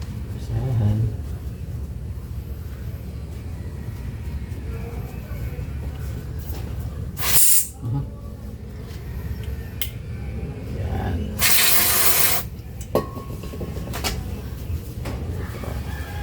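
Two brief hissing bursts of brake cleaner spray on the front brakes of a Toyota Innova 2.8, heard over a constant low rumble of workshop or traffic noise, with a few clicks and knocks between.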